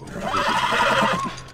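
A horse in the video game The Last of Us gives a single close, loud neigh that lasts just over a second and stands alone without speech.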